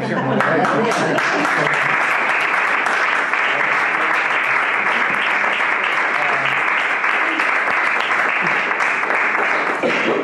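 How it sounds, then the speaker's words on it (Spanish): Sustained audience applause at a public talk, dense even clapping filling the room at a steady level for the whole stretch, with no voices standing out. "Un aplauso primero, ¿no?"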